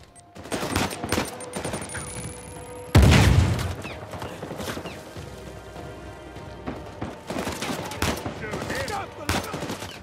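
Rapid gunfire bursts from an Uncharted 4 firefight in the Madagascan wildlands, loud cracks stacked close together with a heavy impact near the three-second mark, over steady game ambience.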